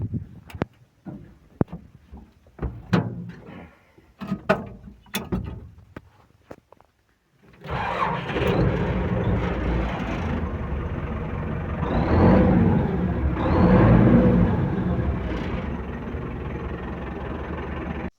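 An MTZ-82.1 tractor from 2013 starts up after a few clattering knocks and bumps, then its diesel engine settles into a steady, fairly loud running rumble that swells briefly before holding even.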